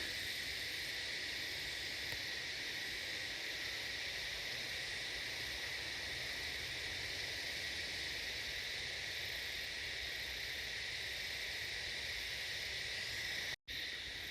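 Insects in Australian native bush near the Glasshouse Mountains keep up a dense, continuous high chirring drone, steady and unbroken for the whole stretch, with no voices and only a brief dropout near the end.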